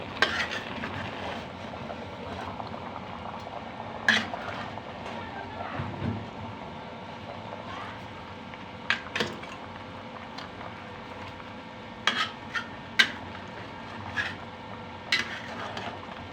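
A spoon stirs meat curry in a pot on a stove, with a low steady simmer underneath and scattered clinks and scrapes against the pot as it is stirred, while someone talks at times.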